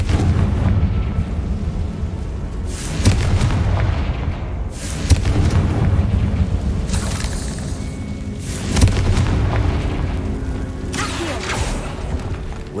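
Confringo fire spell blasts in the Hogwarts Legacy video game, several booming explosions bursting about every two to four seconds over a constant rumbling, mechanical game soundscape.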